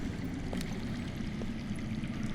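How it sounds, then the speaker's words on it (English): Water runs and burbles steadily in a continuous low, muffled rush from underground near a cave, with a few faint drips or clicks over the flow. "That's water. I hear water. From underground."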